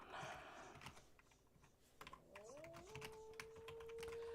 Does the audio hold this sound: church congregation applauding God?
no